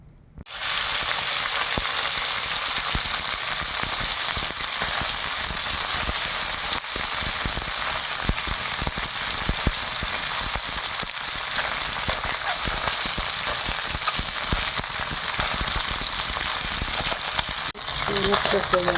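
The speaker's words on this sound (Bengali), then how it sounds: "আগে মাছগুলো ভেজে নিই।" Fish salted and rubbed with turmeric frying in hot oil in a pan: a loud, steady, dense sizzle running unbroken from start to finish, swelling briefly near the end.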